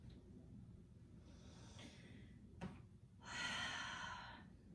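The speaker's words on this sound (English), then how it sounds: "Let's find 2 to 3 long breaths here." Long, deep breaths during a yoga flow session, soft airy inhales and exhales, faint and close, with a fuller drawn-out breath toward the end.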